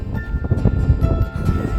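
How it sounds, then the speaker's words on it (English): Strong wind buffets a microphone outdoors at a scenic roadside overlook near a truck stop, a steady low rumble with gusty surges running through the whole stretch, no voices. "it is so windy out here"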